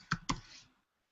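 A computer keyboard is typed on, two quick, close clicks followed by a brief fading rattle, then silence.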